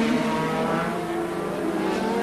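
Formula One cars of the 1984 Dutch Grand Prix, two JPS Lotus machines closing on Keke Rosberg, roar with a loud, sustained high-pitched engine scream that holds steady throughout, dense and close with no pauses.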